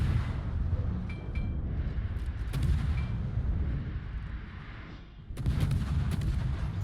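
Battleship Ohio fires its heavy guns in a naval video game, with deep booming salvos and rolling rumble at roughly two moments, each followed by a broad crackling roar, and no talk.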